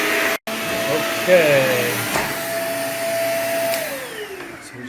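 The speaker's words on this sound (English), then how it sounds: "start by giving all this carpet a thorough vacuuming" A vacuum cleaner drones steadily over carpet in a house, its motor pitch gliding up and down as it moves, loud and close, with a brief word spoken over it.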